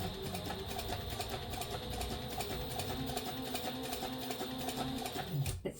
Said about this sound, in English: You want to use a regular sewing stitch because you want the foam to be pressed down in there.